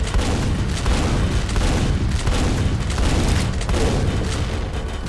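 Enemies fire explosives in the Quake video game, a loud, dense barrage of booming blasts and crackling gunfire that roars continuously with no break.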